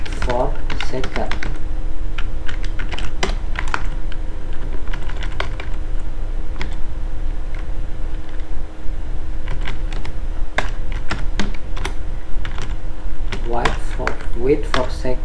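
Code being typed on a computer keyboard while writing a timer script in Unity: steady, close, rapid key clicks in bursts throughout, over a constant low hum, with no talking.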